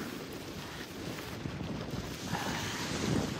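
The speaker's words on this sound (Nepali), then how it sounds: "हावा लास्टै चलेछ" Strong, cold wind buffets the microphone beside a lake in Pokhara at night during a bike ride, a steady rough roar with lapping water waves underneath, swelling slightly louder toward the end.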